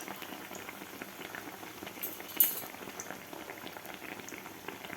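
Kolhapuri masala toast frying in hot oil gives a steady dense sizzle and crackle with faint pops throughout, close and even, with no voices.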